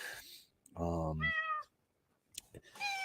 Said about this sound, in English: I think my cat's saying it's time to wrap it up